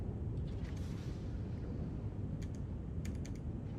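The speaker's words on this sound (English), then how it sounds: "Stupid keyboard." A few sparse, faint keystrokes on a computer keyboard click through a steady background hum during a session of the game Satisfactory, coming in a small cluster near the end.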